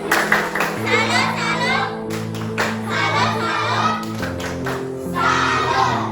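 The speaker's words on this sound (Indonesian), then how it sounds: "Kita berikan tepuk salut untuk diri kita masing-masing." Schoolchildren in a classroom lesson chant and clap a rhythmic 'tepuk salut' together, with sharp claps mixed into a steady hum of young voices.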